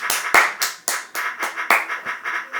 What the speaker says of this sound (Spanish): Un aplauso para nuestro tecladista personal